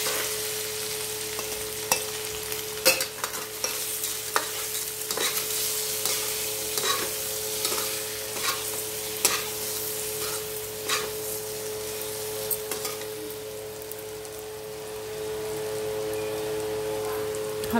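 Potatoes fry in hot oil with turmeric, a steady close sizzle punctuated by repeated scraping and tapping of a spoon as they are stirred around the pan.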